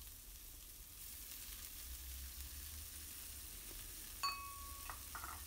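Garlic, finely chopped onion and two kinds of pepper sizzle quietly in a frying pan with a steady, faint hiss, a couple of light utensil clinks near the end.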